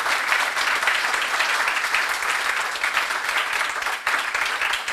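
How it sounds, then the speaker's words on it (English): Audience applause after a leadership talk at a conference, a steady, even wash of many hands clapping for several seconds, fairly loud and unbroken. "a big round of applause, please"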